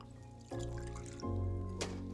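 A batched old-fashioned cocktail is poured over ice in a glass, giving soft liquid trickling and splashing in short stages with a faint clink near the end, quiet and close.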